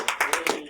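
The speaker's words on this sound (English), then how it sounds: "Let's hear it for Emo SpongeBob." A few quick, sharp claps from a classroom audience in an uneven burst, close and fairly loud, ending almost as soon as it starts.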